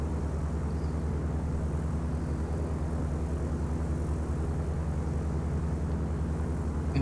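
Steady propeller aircraft engine drone in the flight sim Dovetail Flight School, holding at a constant loud hum on the runway at takeoff with a low rumbling tone throughout and no talk.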